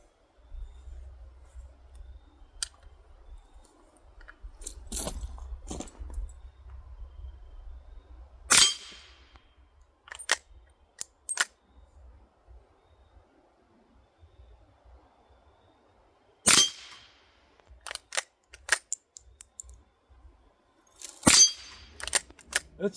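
A Winchester Model 1890 rifle fires .22 Short rounds at targets: a handful of sharp, widely spaced cracks over quiet stretches, with light handling clicks and a low rumble early on.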